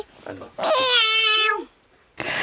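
A person mimics a cat, giving one long, drawn-out vocal meow, loud and close, flanked by brief voiced sounds before it and a short burst of noise after a pause.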